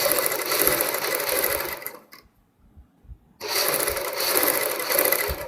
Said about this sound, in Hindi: आपने यहाँ पे मशीन बिल्कुल तेज नहीं चलानी है, बहुत ही हल्के हाथ से सिलाई लगानी है